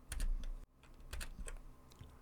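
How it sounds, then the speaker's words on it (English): Two quick presses on a computer keyboard, a Control and N shortcut, give a pair of close, crisp key clicks with a short gap between them, alone with no voices. "One way I can create a new note is pressing the Control and N keys on the keyboard"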